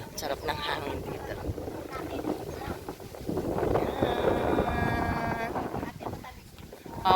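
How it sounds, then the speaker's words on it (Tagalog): Steady wind rushes past on a boat ride off San Jose, Occidental Mindoro, a broad continuous roar that swells midway, with people talking over it throughout. "Sarap ng hangin dito"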